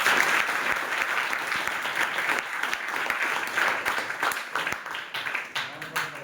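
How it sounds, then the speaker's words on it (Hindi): Loud, steady applause from a school audience gathered for a Constitution Day event in a classroom or assembly, dense hand clapping sustained for several seconds and fading slightly toward the end, with a few voices faintly beneath. "आप लोग संदीप के नाम पे एक जोरदार ताली करें"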